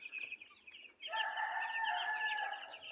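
Broiler chickens about twelve days old cluck and chatter nearby, a brief call followed by a sustained, overlapping chorus of bright fowl vocalizations, with no talking.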